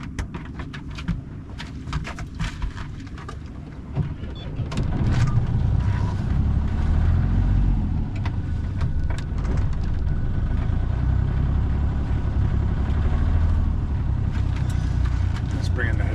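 Sailboat motor-sailing on the Solent against the current, its engine running near 2000 RPM as a steady low drone, with wind buffeting the microphone, water noise and occasional knocks; the rumble grows louder after a few seconds.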